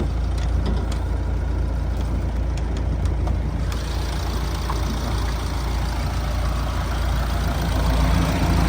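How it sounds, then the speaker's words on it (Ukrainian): A Renault Trafic 1.6 2019 van engine idles steadily with a low, constant rumble throughout, the tone shifting slightly partway through but never revving. "Двигун працює чудово,"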